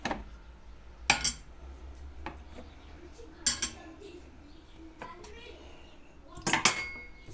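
Metal parts lifted off a gas stove, a few sharp clanks and clinks spaced a second or two apart over a quiet room background, with faint voices.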